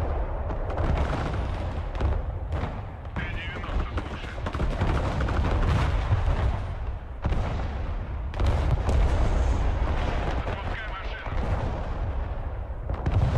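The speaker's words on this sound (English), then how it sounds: "artillery at the back" Artillery pounding away in the Broken Arrow battlefield, with heavy booms and gunfire rolling almost nonstop for over thirteen seconds, loud and dense with low rumble throughout.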